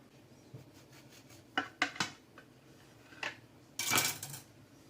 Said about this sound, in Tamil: இப்போ நம்மளோட கேக்கை வந்து நான் கட் பண்ணி காட்டுறேன்.